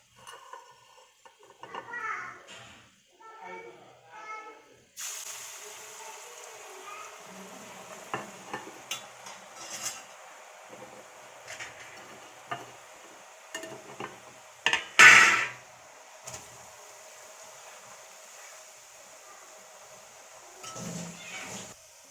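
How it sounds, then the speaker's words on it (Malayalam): Homemade murukku dough dropped into hot oil sets off a steady, close sizzling hiss that starts a few seconds in and carries on, with occasional clinks of a utensil against the pan and brief faint sounds at the start. "എണ്ണ ഇപ്പോൾ നന്നായിട്ട് ചൂടായിട്ടുണ്ട്. ഇനി മുറുക്ക് അതിലേക്ക് ഇടാം."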